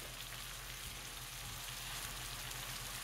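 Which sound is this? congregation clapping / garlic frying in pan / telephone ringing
garlic frying in pan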